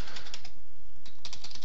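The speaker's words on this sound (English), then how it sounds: "I'm going to go ahead and start typing out a few here." Rapid typing on a computer keyboard, close and continuous, with quick clustered keystrokes and a few louder taps, as short words and commas are entered into a post.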